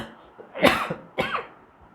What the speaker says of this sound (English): no, this is just a simple cough, not something related to this deadly corona